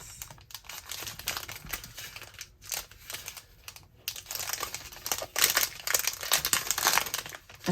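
A sticker package is opened, with close, busy plastic crinkling and crumpling, rustling and tearing in irregular bursts with short pauses, and no talk.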